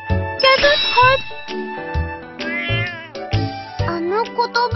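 A cat meowing in a video game story, a run of close, loud, drawn-out meows with pitch bends, over a soft tinkling music background.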